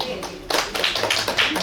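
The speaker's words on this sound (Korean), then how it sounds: "박수." An audience at a year-end poetry recital breaks into a short burst of clapping. Scattered hand claps build quickly into a quick, uneven patter at close range.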